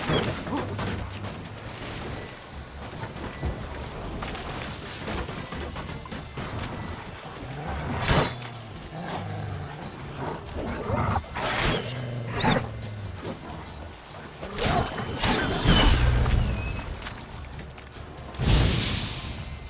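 A wolf attacks in The Witcher 3: a busy combat mix of snarls, growls, thuds and clashing impacts comes in bursts over a low game background, with sharp hits spread across the fight.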